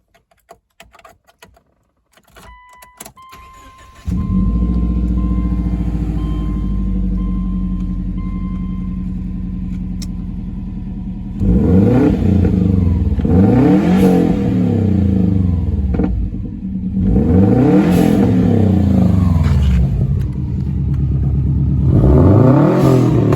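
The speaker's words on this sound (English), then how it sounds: "I'm going to start the car now and let you hear it." A Subaru Outback XT turbo with an aftermarket exhaust cranks and starts after some faint clicks, settling into a loud, steady idle rumble, then gets three strong revs that rise and fall, the last one near the end.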